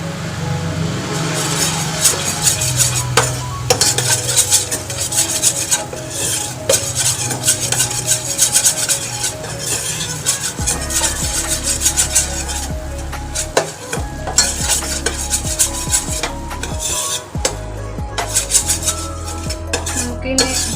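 Loaded fries topping being stirred and mixed in a pan over heat, with steady scraping of a utensil against the pan, light clinks and a soft sizzle running throughout, close and loud, with no voices.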